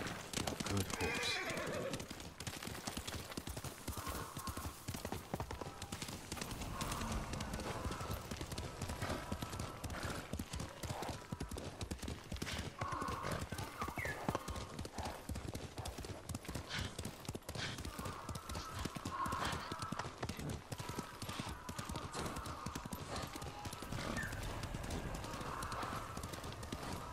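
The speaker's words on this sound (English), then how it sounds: "Good horse." In the video game Ghost of Tsushima, horse hooves clip-clop continuously at a steady gallop for almost half a minute, with occasional whinnies breaking through the hoofbeats.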